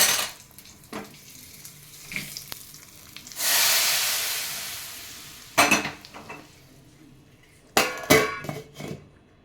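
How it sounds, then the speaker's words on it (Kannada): Mustard seeds and curry leaves sputter in hot oil as a tempering for a cauliflower and dried pea gravy. A loud sizzle swells and fades, with several sharp metal clinks of a pan and spoon before and after it. "ತಕ್ಷಣ ಒಗ್ಗರಣೆ ಕೊಟ್ಟು ಬಿಡೋಣ."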